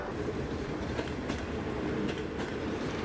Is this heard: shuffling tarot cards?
no